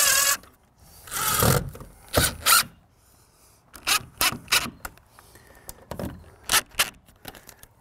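A power driver sends screws into a wooden shed in several short whirring bursts separated by pauses, close and fairly loud, with small clicks and creaks between them.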